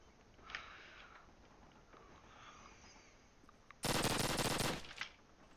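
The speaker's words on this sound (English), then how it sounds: "As you can see, Spirit only fire some PPSH shots" A PPSh submachine gun fires a rapid, loud burst lasting about a second in the shooter Call of Duty on the Tigertown map, following a stretch of quieter game ambience with a few faint clicks.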